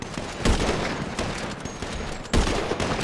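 Gunfire in the GTA 5 video game, dense rapid bursts of shots with a couple of louder close blasts, continuous and harsh without talk.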